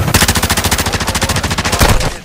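Rapid automatic gunfire from a multiplayer shooter game, a loud continuous burst of evenly spaced shots, close up and ending abruptly after about two seconds.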